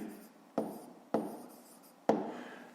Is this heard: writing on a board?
yes